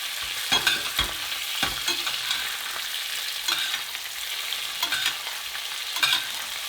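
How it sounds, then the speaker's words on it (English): Steak sizzling and frying in a pan as it is basted with melted garlic butter, a steady close crackle broken by sharp spoon scrapes and taps against the pan. "Whilst that steak is still frying away, getting a bit of a basting on both sides"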